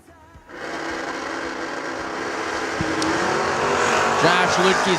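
Drag race cars launching side by side down the strip at a TB Promotions $50K event, a loud sustained engine roar building after a brief quiet start, with an announcer talking over it.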